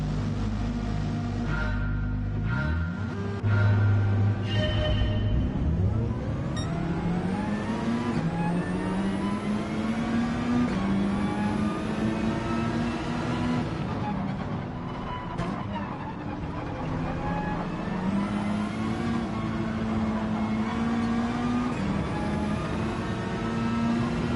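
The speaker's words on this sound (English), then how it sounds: "this car is so tricky to launch." A touring car in Gran Turismo 7 launching off the line, its engine revving hard and rising through gears with repeated pitch climbs, loud and continuous throughout, with faint speech at moments.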